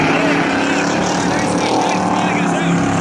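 Eight-cylinder class race cars roar past together at Valley Raceway, a dense, loud, continuous engine blare with a commentator talking over it.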